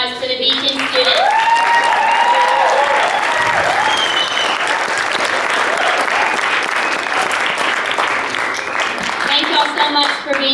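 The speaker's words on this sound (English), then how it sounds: "let's give another round of applause for the Beacon students" An audience gives students a sustained round of applause after an evening show, a dense, loud wash of clapping from many hands with some cheering, holding steady for about ten seconds.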